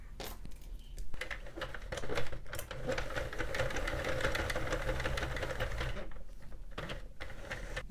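A Sentro or Addi circular knitting machine cranked through a row, giving a continuous rattling mechanical clatter of plastic needles and gears, close and steady throughout with brief pauses near the start and end.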